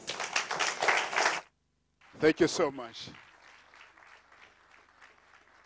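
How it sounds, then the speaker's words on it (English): Brief burst of audience applause at an indoor public talk, loud for about a second between stretches of speech, with a voice thanking the crowd over the fading claps. "Let's give him another round of applause."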